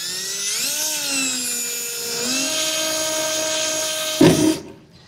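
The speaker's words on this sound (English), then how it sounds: "I'll go ahead and take a drill bit and just make a small pilot hole" A drill bit bores a small pilot hole in the bed of a 2015 Chevrolet truck: a steady high whine that rises in pitch as it spins up, then a brief grinding bite as it punches through and stops.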